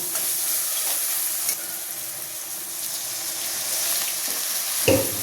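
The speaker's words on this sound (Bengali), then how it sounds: "সামান্য হচ্ছে জল দিয়ে আমি এটা আর একটু কষিয়ে নেব।" Potato and egg curry masala with a splash of water sizzles softly in a pan while being stirred, a steady faint fry with light scraping, a brief clink near the end, and no voices.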